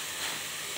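Whole spices tempering in hot oil in a pan while cooking kochu shak with potatoes, a steady close hiss and fizz of sizzling that holds evenly throughout without a break.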